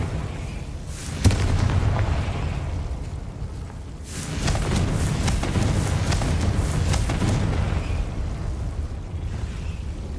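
Confringo fire spell in Hogwarts Legacy, a sharp crack followed by a deep rumbling roar that swells again midway into a long, booming explosion with crackling tail.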